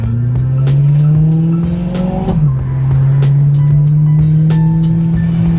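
A BMW M3 pulls out and drives off on a rainy road, its engine note rising steadily up close, dipping briefly as it shifts, then droning on with light road and tire noise.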